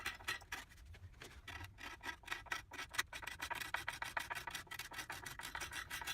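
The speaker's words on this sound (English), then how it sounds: "using this curved scraper" A curved scraper rasps rhythmically across a hand-carved black walnut spoon bowl, a close series of rapid scratchy strokes that become steadier and denser as it goes on, with no one talking.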